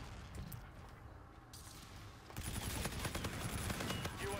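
Dense automatic gunfire from the Call of Duty: Infinite Warfare multiplayer game, steady volleys that swell louder after a couple of seconds, a continuous loud barrage with no talk.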